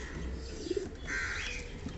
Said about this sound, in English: They are actually high flyer pigeons.